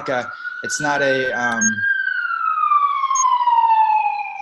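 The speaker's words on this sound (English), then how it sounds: "Sirens, sirens is going on." A siren wails loudly and steadily, slowly falling in pitch, while a person talks over its start.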